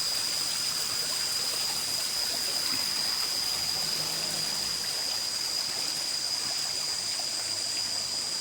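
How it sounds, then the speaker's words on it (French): Steady rushing water of a waterfall at a temple in Thailand fills the scene, a constant broadband roar like a cascade nearby, with no voices over it. "mais écoutez la cascade"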